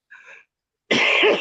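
A man coughs twice indoors, a short muffled hack followed after a pause by a louder, harsher, drawn-out cough with a rough throaty edge, close to the listener.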